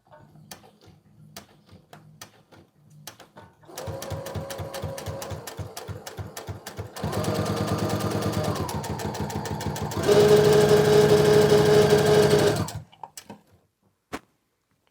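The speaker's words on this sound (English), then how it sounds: "the harder you press, the faster it will sew" A Brother CS6000 sewing machine stitching, starting with slow ticks, then running in a rapid whirring rhythm that steps up to a louder, faster full-speed hum before stopping abruptly, close and alone.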